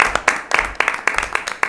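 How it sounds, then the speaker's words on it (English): At a school committee meeting, a few people clap in short uneven bursts, sparse nearby applause rather than a full round. "And can we have another round of applause?"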